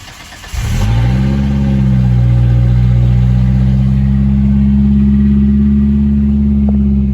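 A 1993 Ford Ranger's 2.3-liter engine cranks and catches at about half a second, then settles into a steady, loud, even idle that runs close and uninterrupted for the rest of the clip.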